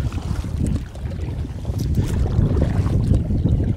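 A kayak moves across swamp water, with a continuous low rush of paddling and water noise mixed with wind buffeting close to the microphone.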